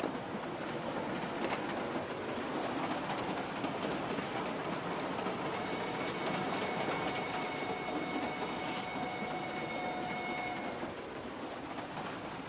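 A passenger train rolls steadily along in a 1946 film noir mystery, a continuous rumbling roar with faint clickety-clack and a thin metallic squeal drifting through, unbroken for the whole stretch.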